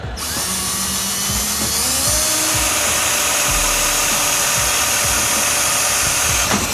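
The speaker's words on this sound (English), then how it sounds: "Let's drill a hole." A power drill whines loudly and continuously, its pitch shifting as it bites into metal on a boat, with the motor holding steady throughout.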